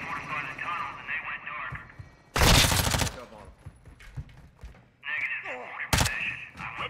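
Shotgun fire in a video game, with two loud, close bursts of blasts, one long volley near two and a half seconds and a short sharp shot near six seconds, set among game radio chatter and voices.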